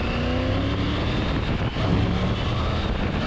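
A Triumph Tiger 900 Rally Pro motorcycle engine runs on the road during a test ride, a loud continuous close drone mixed with wind rush, holding steady with only a slight dip partway through.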